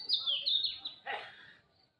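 A few bright morning bird chirps and whistles close by near a mango tree in blossom, quick tweets followed by a short trilling call that fades out.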